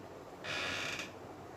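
A door that needs oiling gives one drawn-out creak, thin and squeaky, lasting about half a second over a faint outdoor background of steady low hum.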